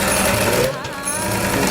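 A sewing machine stitches a blouse at home, a loud rapid mechanical whir and clatter running continuously for a brief stretch, close by with no voices over it.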